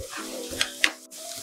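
Potato masala for bread pakora stirred and sautéed in a pan, with a soft steady sizzle, a couple of sharp scraping spoon clicks and a brief rattle, heard close with no talk.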